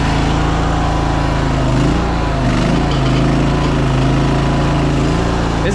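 The engine of a cheap Chinese mini skid steer runs loud and close at high throttle, a constant buzzing drone with slight wavers and no break across the whole stretch.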